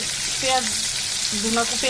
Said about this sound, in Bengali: এখন পেঁয়াজ দিব চুলায়। তেল কিন্তু একদম টকবকে গরম।